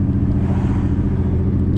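An engine fitted with an idle chop mod idles with a deep, steady rumble close by, holding even without fluctuation through the short stretch.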